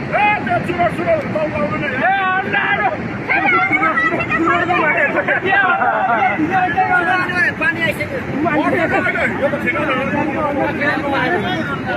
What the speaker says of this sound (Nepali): फेरि उताबाट पानी दह्रो आउन लागेछ के